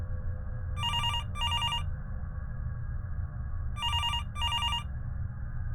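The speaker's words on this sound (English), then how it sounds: "The phone was ringing in its cradle." A telephone rings in two double bursts of bright electronic trilling, separated by a pause, over a low steady background rumble.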